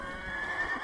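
A white horse in the video game Ghost of Tsushima gives a short, close whinny with faint hoof clatter, heard alone.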